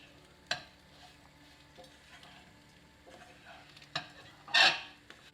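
Potatoes coated in podi spice fry on high heat in a pan while a utensil stirs them, making a steady close sizzle broken by scraping clinks and a louder scrape near the end.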